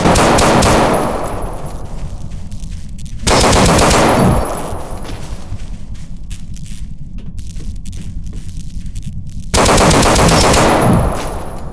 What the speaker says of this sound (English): Gonna shoot him right through this little sliver.